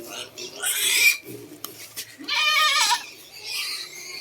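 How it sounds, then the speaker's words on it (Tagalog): A goat bleats several times nearby on a small provincial pig farm, with a loud, wavering cry in the middle, mixed with other farm-animal noises. "iyak ng iyak tong isang kambing"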